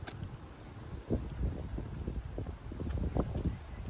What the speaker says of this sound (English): I just don't like the wind